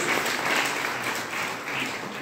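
An audience at a DXN business speech claps loudly together, a dense sustained burst of applause that swells and eases slightly over a couple of seconds, without voices.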